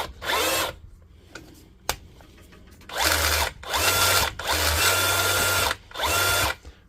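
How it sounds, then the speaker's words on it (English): A Dewalt DCH273 Type 2 SDS hammer drill with a fault, running roughly and not hammering, whines in five separate bursts of about a second each, with short mechanical clicks and handling noises between them. "Today we've got this DCH273 Type 2 Dewalt SDS machine. It works, but it doesn't sound too good and it's not hammering."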